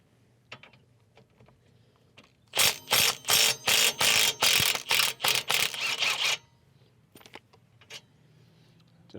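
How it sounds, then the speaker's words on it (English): A ratchet clicks loose a 14 mm pinch bolt on a 2015 Subaru Outback's front suspension during a wheel bearing and CV axle job, a close burst of about ten rapid loud ratcheting strokes between quieter handling clatter. "Now we need to take the 14 millimeter pinch bolt loose"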